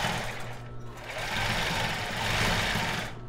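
A sewing machine runs a small zigzag finishing stitch along the side of a cropped top, a fast, even mechanical whir up close that swells slightly mid-run before stopping.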